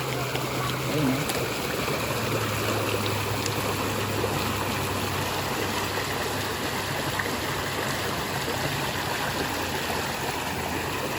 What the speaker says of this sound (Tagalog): Talagang hot spring talaga, nature na nature.